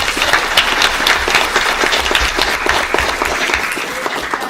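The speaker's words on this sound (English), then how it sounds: "So I'd like you to give Mary a big round of applause." Sustained applause from an audience at a school board monthly meeting honoring a state organization leader, a dense, steady wash of many hands clapping close by, loud and continuous throughout without speech.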